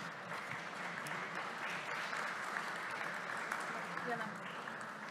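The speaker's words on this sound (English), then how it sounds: "Please welcome him with applause." An audience at an academic panel applauds to welcome the moderator, with steady, even clapping that holds at a moderate distance throughout.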